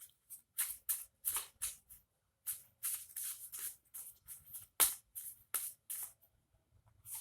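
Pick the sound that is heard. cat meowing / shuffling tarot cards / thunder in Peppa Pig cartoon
shuffling tarot cards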